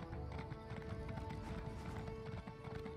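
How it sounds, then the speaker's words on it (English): A horse ridden as a mount in the video game Elder Scrolls Online trots at a slow pace, its hooves clip-clopping in a steady, continuous rhythm over a faint game soundtrack tone. "With my super slow horse."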